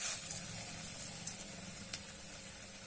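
Lentil fritter batter sizzles steadily in hot oil in a wok, a continuous close crackling hiss with small pops scattered through it and no talking.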